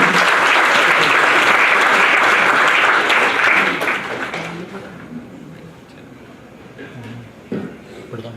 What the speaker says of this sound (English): Please give a round of applause for Pritika ji and Nikki.